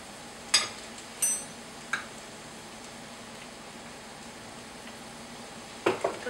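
Flour being stirred into vegetables sautéed in butter in a pot for chicken pot pie: a few distinct spoon knocks and scrapes against the pan over a faint, steady sizzle.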